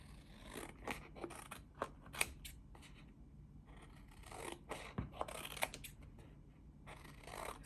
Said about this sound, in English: I take my bigger scissors.